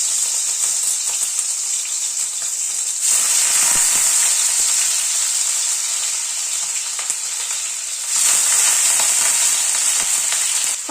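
Paneer pieces frying in hot white oil in a wok on a gas stove, a steady loud sizzle throughout that swells louder twice as the pieces are moved or turned.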